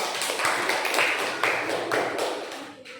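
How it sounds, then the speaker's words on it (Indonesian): A class of children applauds together, a dense burst of rhythmic hand claps lasting a few seconds, fairly close and steady before fading out. "Tepuk tangan dulu."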